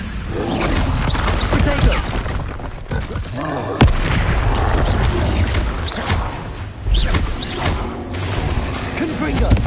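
Confringo spell blasts in the video game Hogwarts Legacy, several loud booming explosions with mechanical clatter that recur across the stretch while a player talks over them.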